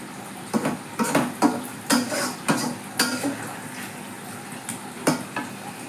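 Spice masala fries in oil in a pan and is stirred for a jackfruit curry, giving close, rhythmic scrapes and clatters over a continuous sizzle, about a dozen strokes.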